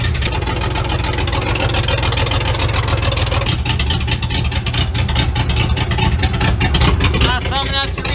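An EH Holden car engine runs steady and loud at close range while the car drives onto a hoist in a workshop, with a continuous low rumble throughout.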